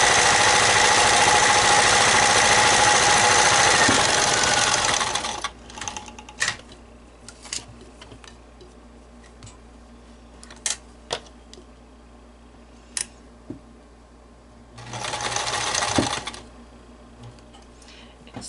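A sewing machine stitches pleats on a fabric mask, running in a steady loud whir for about five seconds, then scattered clicks and handling noises, then a second short stitching run, close up.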